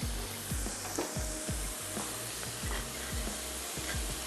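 Shredded beef sizzles loudly in a pan with a tablespoon of added oil, a constant close frying hiss broken by repeated scrapes of stirring.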